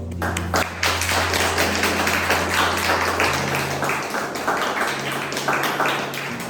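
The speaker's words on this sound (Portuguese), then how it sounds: "Nos aplaude" A church congregation at an in-person worship service claps in a sustained, busy patter, while a held keyboard tone and its shifting chords hum underneath.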